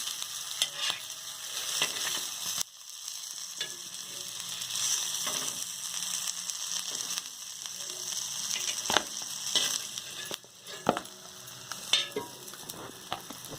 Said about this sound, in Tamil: நான் ஃபுல்லாக டீப் ஃப்ரை பண்ணாமல் ஷாலோ ஃப்ரை பண்ணியிருக்கேன்.